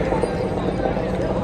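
Horse hooves clip-clop along a steep mountain trail on the Amarnath Yatra pilgrimage route in a brisk, steady rhythm beneath a voice.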